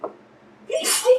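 A single close, sharp human sneeze bursts out after a brief quiet pause at an indoor tabletop role-playing game session, ending in a short voiced trailing sound.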